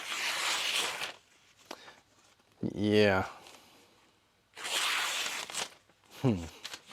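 A Japanese Tsunehisa White 2 stainless-clad tsuchime bunka kitchen knife, 165mm, slices through a sheet of paper in two short hissing strokes, close and crisp, with brief speech heard between cuts.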